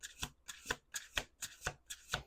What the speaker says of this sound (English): We're going to do 1 more shuffle.